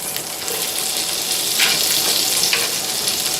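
Fat and butter frying in a pan while beef stroganoff is cooked, a steady broadband sizzle with faint crackles and a couple of brief bright spatters, close by and with no talking.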